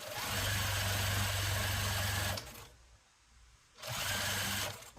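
Sewing machine binding a large quilt runs in two loud, close, steady bursts of rapid stitching hum, separated by a short quiet pause.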